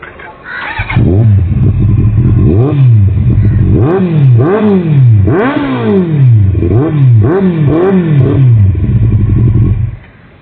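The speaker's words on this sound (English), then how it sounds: "let's hear the exhaust note of this bike" A Kawasaki Z800 motorcycle exhaust revs hard over and over, each blip rising and falling in a rough, rhythmic sequence, loud and close, with no talking.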